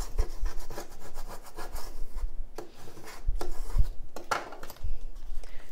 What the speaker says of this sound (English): I'm gonna go ahead and do a couple scrapes just to make sure that everything is pressed down correctly